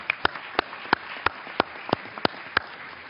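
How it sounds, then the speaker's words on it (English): Sparse, faint individual hand claps at an evenly spaced rhythm, about ten in a few seconds, thanking a panel at the 65th Annual UN DPI NGO Conference. "So let's give them a big round of applause."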